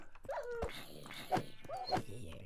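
Dog from the Minecraft video game giving short whimpering yips, several brief calls spread over a couple of seconds at moderate level, with faint game sounds behind.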